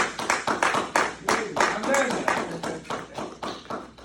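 Church congregation clapping in a steady, quick rhythm, the sharp claps close and evenly spaced, with a faint murmur of voices underneath.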